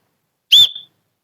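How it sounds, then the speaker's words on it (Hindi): Whistle built into a children's umbrella, giving one short, bright, shrill toot with a slight trailing tail, clear and close against silence. "बजता है भाई, सीटी बजता है"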